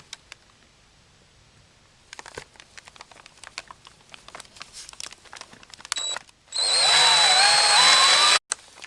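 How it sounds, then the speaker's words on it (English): A power drill bores through two stacked pieces of wood for a homemade Boeing 737 landing gear lever, preceded by scattered handling clicks and rustling, then a loud, steady high-pitched whine for about two seconds that cuts off abruptly. "So let's start drilling."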